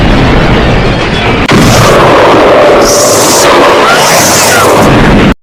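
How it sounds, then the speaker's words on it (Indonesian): A rocket strikes a police car: a sudden loud blast erupts, followed by a roaring, crackling explosion that sustains for several seconds before cutting off. "menembakkan roketnya yang langsung membuat mobil polisi meledak"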